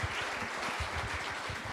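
Audience applause at a book concert event, a dense, steady patter of many hands clapping for nearly two seconds in an indoor hall, fairly quiet and even.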